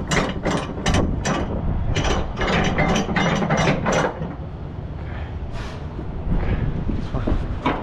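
Ratchet straps are cranked tight over a steel coil load on a flatbed truck, giving a loud, close run of rapid clicking strokes in bursts that carry on steadily throughout.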